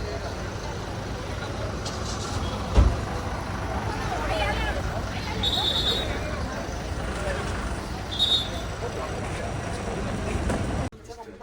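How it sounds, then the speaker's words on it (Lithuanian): A bus rumbles steadily close by at a stop in Sauraha, a constant low drone with a couple of brief higher tones and murmuring voices under it, ending abruptly. "Toks vėl autobusas."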